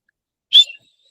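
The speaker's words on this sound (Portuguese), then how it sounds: "vou dar o apito, vou falar o apito aqui" A single short, shrill whistle blast sounds once against near silence to start a medical practical exam, cutting off quickly with a faint trailing tail.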